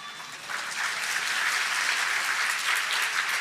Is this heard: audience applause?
yes